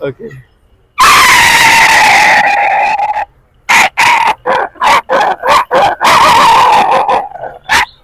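A man imitates a dog barking with his voice, a loud sustained yelping howl followed by a rapid series of short sharp barks separated by brief pauses.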